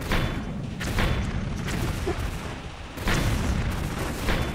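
Booming explosions and gunfire-like thuds from the video game Tomb Raider III at the crash site level, arriving as a steady dense rumble with louder bursts near the start, middle and end.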